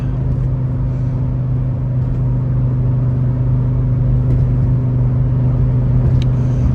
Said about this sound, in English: That 5-cylinder offbeat sound is just addictive.